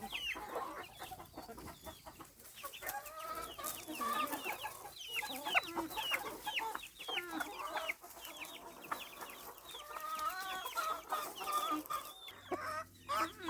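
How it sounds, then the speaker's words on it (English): Chickens cluck and chatter in a garden in October, a steady stream of soft, varied clucks and squawks from several birds nearby, with quiet background noise and no talk. "Just a minute of chicken TV."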